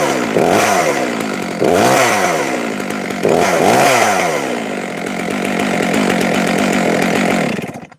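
A cold chainsaw on a sharpener clamp starts with repeated surging engine bursts, loud and close, then settles into a steady running drone that cuts off at the end.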